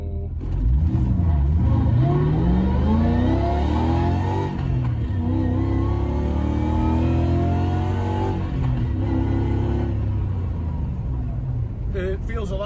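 A BMW E34 car engine revs and accelerates with rising pitch, loud and close from inside the car, settling into a steady drone, while a voice talks over it.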